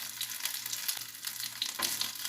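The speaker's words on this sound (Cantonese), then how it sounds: "咁呢邊煎到香香地呢，就反轉另外嘅一邊" Egg frying in a pan, an over-easy egg seasoned with scallion, giving a steady close sizzle and crackle with brief spattering pops, no voices.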